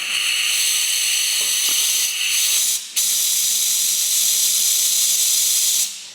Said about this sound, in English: we can blow it out with some compressed air